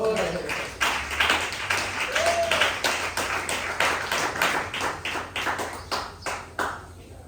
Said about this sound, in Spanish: Dele fuerte palmas al Señor.